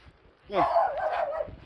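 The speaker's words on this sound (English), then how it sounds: "Oop, scared the poor little puppies. Little doggies everywhere." Small puppies yelp and bark in a short burst close by on a town street, high-pitched yips rising and wavering for about a second over faint background noise.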